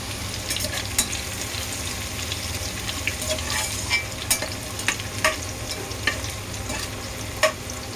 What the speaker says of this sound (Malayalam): ലൈറ്റ് ഗോൾഡൻ നിറാവുന്നവരെ ഇത് നമുക്ക് ഫ്രൈ ചെയ്തെടുക്കാം.